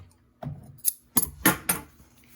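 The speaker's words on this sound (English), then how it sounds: "Cut your extra threads." Short snips of scissors trimming the leftover threads on a fabric scrunchie, four or five quick crisp cuts close by, with no talk.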